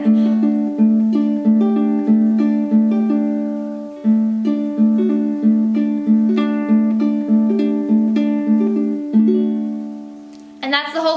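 A ukulele plays a steady fingerpicked pattern from the chords of a song, plucked notes ringing cleanly in a repeating rolling rhythm, close and clear, with a quick strum at the end.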